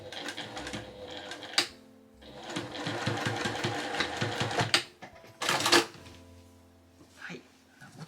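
A quiet, well-oiled professional sewing machine tack-stitches fabric about 5 mm from the edge of a drawstring bag in rapid, rattling bursts, with short pauses and a few soft thunks between runs.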